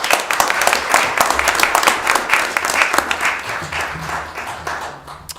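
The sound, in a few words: applause at a city council meeting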